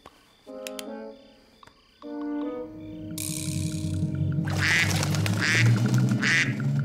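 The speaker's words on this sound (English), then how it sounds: "It was just a duck in the pond." A cartoon duck quacks in a pond with a few short, clear calls. Soft background music and broader rustling ambience build beneath them toward the end.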